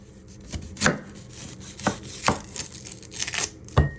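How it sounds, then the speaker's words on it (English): Knife trimming the ends of a red onion on a cutting board, a handful of separate sharp chops spaced irregularly, close and crisp with no talking. "So next step, you're going to prep your red onion. You're first going to trim your ends."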